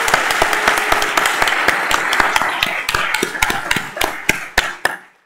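An audience at an awards ceremony claps for the judges, dense applause that thins out into a few last loud individual claps before fading to silence.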